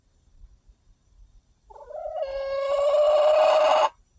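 A pet hen gives a rising, drawn-out squawk that swells louder and holds for about two seconds before stopping abruptly, close and clear above faint rustling.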